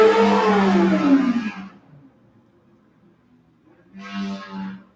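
A loud car engine revs hard in a roaring burst that fades away, then comes back for a second, shorter surge after a few seconds of near quiet.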